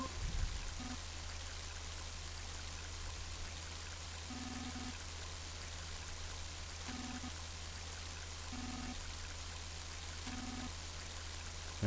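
Steady rushing water of a flowing river in the video game Mother 3, a continuous broadband wash with a soft low drone and faint periodic tonal blips repeating every couple of seconds, no voices.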